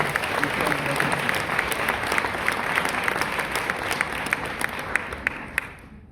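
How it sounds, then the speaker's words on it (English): Audience applauding at a science highlight session on stage, a steady dense wash of clapping with brighter individual claps standing out, continuing for several seconds before thinning out at the end. "a round of applause, please."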